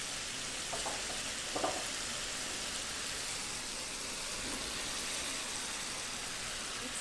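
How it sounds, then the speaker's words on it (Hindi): Okra frying in masala in a hot pan, a steady even hiss of sizzling oil running throughout with a few brief stirring clicks near the start. "अब डाल देते हैं इसमें भिंडी।"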